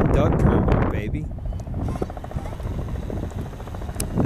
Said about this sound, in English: That is the AM 750 traffic chopper right there.